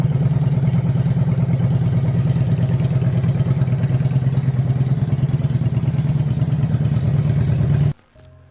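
A custom motorcycle built by Karai Customs idles with a steady, loud, throbbing engine note close by, then cuts off abruptly near the end.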